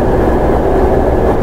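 A Kintetsu 8810 series field-chopper electric commuter train on the Kyoto Line rumbles steadily, a loud continuous drone with no distinct clatter, over a short stretch.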